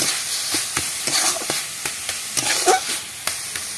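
Leafy greens ghonto fries in a pan with a continuous hissing sizzle, punctuated by repeated scraping knocks of a spatula stirring, close and fairly loud, with no voices.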